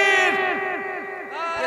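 A crowd at a naat recitation gathering roars together in loud, sustained unison, voices blending into one swelling shout that dips briefly and rises again.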